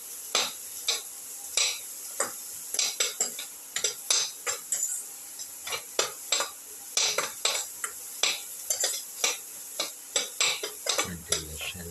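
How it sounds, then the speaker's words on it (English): Shallots being sautéed in a pan, with a steady frying sizzle under a series of rhythmic scraping and clinking strokes of a utensil against the pan, close and moderately loud. "keep on sauteing."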